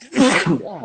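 A single sharp human sneeze bursts out close and loud, followed by a short spoken word.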